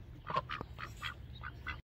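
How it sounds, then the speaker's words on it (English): Pet ducks, a female and a male, quacking several times in short raspy bursts, close by and moderately loud, with no talking. "Louder squawks, quacks, if you will."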